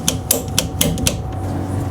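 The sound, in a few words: plumber cutting through a drain pipe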